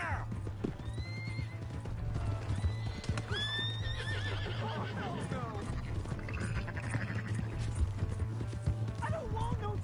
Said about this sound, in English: Hey, that's my horse!